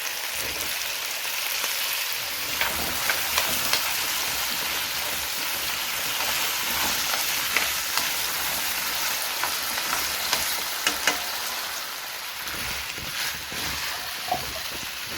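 Potatoes frying in a pan, a dense, steady hiss of sizzling oil like rain, with faint occasional clicks of stirring, close and without talk.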